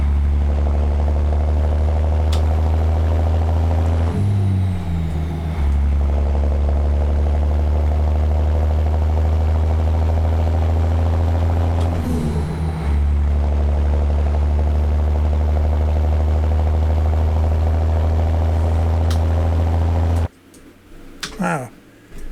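A heavy truck engine drones steadily at a low pitch in American Truck Simulator, running continuously and loud with a couple of brief shifts in tone, then cutting off near the end.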